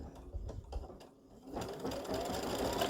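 An embroidery sewing machine stitching a freestanding lace snowman hums and chatters nearby, a few distinct mechanical clicks first and then a steady rapid stitching whir.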